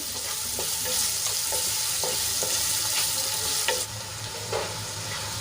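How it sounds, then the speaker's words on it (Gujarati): Finely chopped onions sauté in hot oil, giving a dense continuous sizzle with a few stirring scrapes and clicks, close and fairly loud, then a slightly quieter sizzle toward the end, with no voices. "ડુંગળીની આપણે ગુલાબી રંગની થાય ત્યાં સુધી સાંતળી લેવાની છે"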